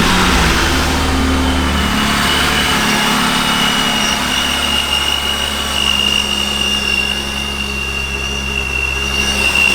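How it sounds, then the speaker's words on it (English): A loud boosted BMW E36 engine starts, roars and revs, settling into a steady heavy drone with high whine, close by and without talk. "Now let's turn the car on and see if it works."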